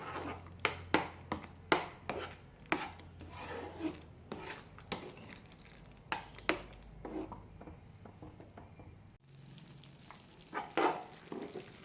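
Cornflour halwa being stirred in ghee in a pan, with a spoon scraping and tapping the pan in steady repeated strokes over a soft continuous sizzle, close and fairly quiet.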